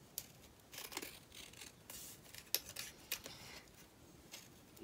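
Scissors snipping along a marked line, faint and close, with a string of short crisp cuts and rustles at an uneven pace, no voices.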